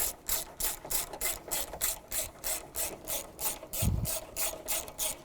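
A ratchet tightening a 10mm bolt, a rapid repeating clicking with about a dozen regular strokes, close and clear, with one brief low thump near the end.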